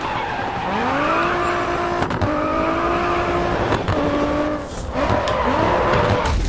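A race car drifts in Grid Autosport on PS3, its engine revving in long rising sweeps under continuous loud tire squeal, with repeated gear changes through the slide.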